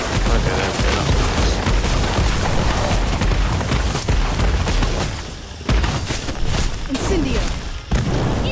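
Fire traps in the Harry Potter Magic Awakened video game set off a dense, steady barrage of booms and bursts, loud and continuous, with a voice talking over them.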